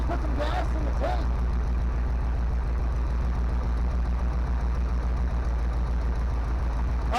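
A 1970 Chevy dump truck engine, revived after long storage, idles with a steady low rumble throughout, while a person briefly speaks near the start.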